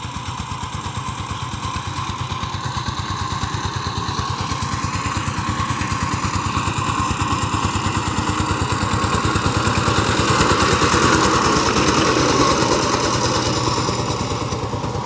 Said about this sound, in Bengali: পুরাতন গাড়ি হলেও গাড়ির সাউন্ডটা অনেকটা সুন্দর আছে, ইঞ্জিনের সাউন্ড এখনো অনেক সুন্দর।